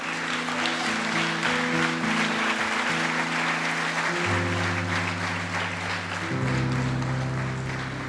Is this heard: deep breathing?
no